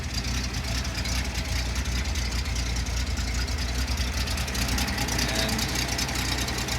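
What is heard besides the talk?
1973 Datsun 240Z engine idling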